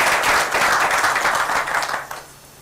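An audience at a Meru County gathering claps briefly, a dense burst of hands that fades out after about two seconds.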